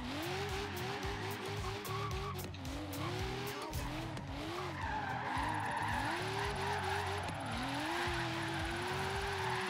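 Car in Forza Horizon 3 drifting with steady engine drone, repeated rising and falling revs and continuous tire squeal, loud and close throughout.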